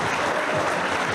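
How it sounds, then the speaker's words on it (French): An audience applauds steadily, a dense, even wash of many hands clapping at once that continues without a break. "merci beaucoup pour vos applaudissements"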